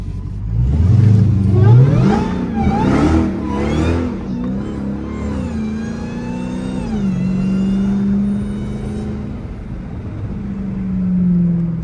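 A 1000hp hoodless Dodge Demon 170 Charger revs hard near the mic, its engine note rising and falling in repeated surges, then holding a steady wavering drone as the tires spin.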